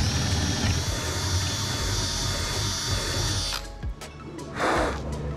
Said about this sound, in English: Then we take our just normal wood bit at 3/8 because that's our bolt size